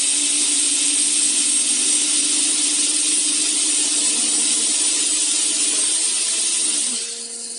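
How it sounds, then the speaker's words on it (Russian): Several Lego Technic motors whir together at idle, a loud steady high-pitched electric whine with a low hum beneath, running evenly before easing slightly near the end, with no voices. "Сейчас я включу все моторы."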